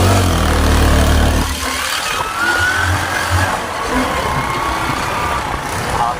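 A motorcycle engine runs steadily throughout, a continuous near rumble with a faint rising whine, probably while riding, and no talk.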